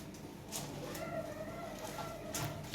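White Lahore pigeons in a loft, soft low cooing and murmuring close by with a couple of brief sharper calls, steady and fairly quiet with no talking.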